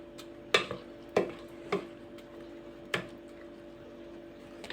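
Spoon stirring tomato puree into a ground eggplant mixture for a spicy preserve, with four distinct scraping knocks against the pot spaced about a second apart over a low steady hum, no talking.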